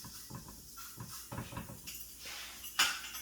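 Sausage going into a frying pan for breakfast gravy, heard as several clanking knocks of metal pan and utensils with a sharp clatter near the end, close and fairly loud, no talking.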